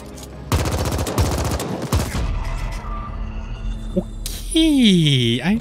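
Gunfire in the video game The Ascent: several rapid bursts of close, sharp shots in the first two seconds, then a lone crack, followed by a sweeping whining game effect, with a voice speaking in between.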